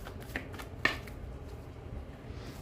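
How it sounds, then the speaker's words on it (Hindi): A deck of tarot cards is shuffled quietly and close by, a soft continuous papery riffle with one sharper click partway through, no voices. "एक शफल लूंगी प्रभु जी"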